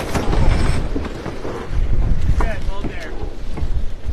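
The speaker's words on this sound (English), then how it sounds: "Got a bit of wind at the start" Strong wind roars across the microphone aboard a sailboat at the start of a charity race, gusty and close, with water rushing beneath and a faint voice at moments.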